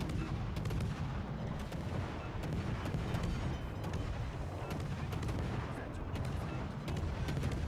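Naval guns in World of Warships: Legends firing high-explosive shells, a dense, continuous barrage of overlapping booms and cracks with sharp repeated impacts throughout, loud and sustained without a break.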